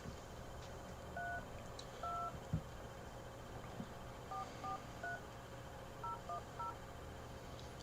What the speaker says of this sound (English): I'm just going to call them.